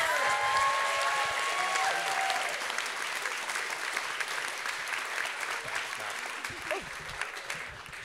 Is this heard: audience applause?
yes